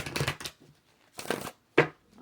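A deck of cards is shuffled in quick riffling bursts, three short rustling flurries separated by brief pauses, close and fairly quiet.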